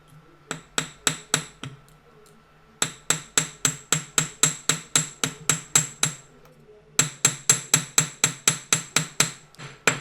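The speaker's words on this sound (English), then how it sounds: "Keep moving the hammer and keep moving the piece." A metal hammer taps a metal leaf pendant for a necklace, texturing it in three runs of sharp, ringing, evenly spaced strikes, close and loud, with short pauses between runs.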